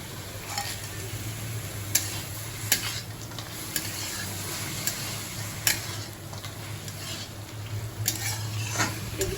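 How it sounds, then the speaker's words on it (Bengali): Bori lentil dumplings fry in a spiced bottle gourd curry with a steady low sizzle, while a spoon stirs and scrapes the pan, making repeated sharp clinks against the metal. "মশলা কষানো হয়ে গেছে এবার বড়িটা দেবো"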